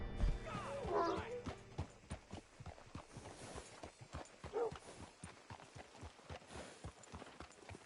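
Horse hooves clop at a walking pace in the video game Red Dead Redemption 2, a soft, regular beat of steps with a few faint voice-like sounds early on.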